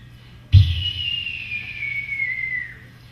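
A person whistling an imitation of a red-tailed hawk call at a university talent show: one long, loud, close whistle that starts abruptly and slowly slides downward over about two seconds.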